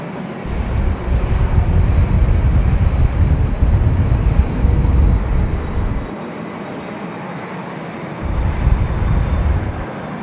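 A fixed-wing airliner roars steadily during a windy takeoff at Sydney Airport, a loud broadband engine rumble with gusty wind buffeting the microphone, easing slightly midway before swelling again.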